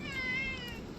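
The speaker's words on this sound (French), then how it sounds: "Et le chat qui vient voir." A cat meows once in a long, drawn-out call with clear harmonics, fairly close, with no talk over it, during a vanlife stay on Rangiroa atoll in French Polynesia.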